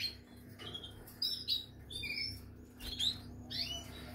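Cage birds in an aviary chirping in short, bright bursts, several quick tweets scattered close by over a steady low electrical hum.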